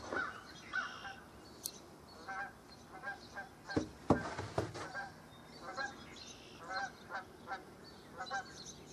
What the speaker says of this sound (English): One goose flying over,